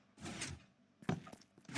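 Doors in Minecraft slide open after a button press inside a redstone-wired reactor facility: a soft whooshing opening followed a moment later by a sharper mechanical clunk and short rattles, fairly quiet and close.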